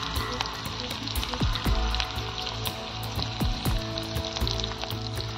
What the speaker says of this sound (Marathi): यात टाकूया आपण चिरलेली मिरची, लसूण. टाकूया आपण चवीसाठी 2 सुक्या मिरच्या.